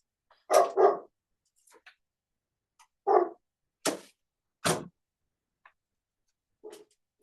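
A pet dog barking indoors, several sharp separate barks, a quick double bark at first and then single barks spaced a second or so apart, close and loud against near silence.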